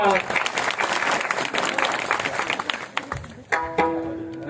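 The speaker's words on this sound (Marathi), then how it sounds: "सगळ्यांनी टाळ्या वाजवा." An audience at a Marathi kirtan (devotional gathering) claps loudly and continuously for a birthday greeting. The clapping stops abruptly near the end, and a voice follows.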